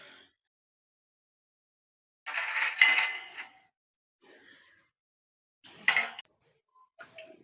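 Fried chakralu dropped into a metal strainer bowl, a few separate bursts of light clinking and rattling with quiet gaps between them.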